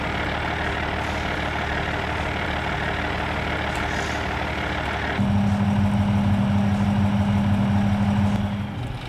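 A low, steady tractor engine idle in a farming video game drones throughout, joined midway by a louder, buzzing tone that holds for several seconds before easing off.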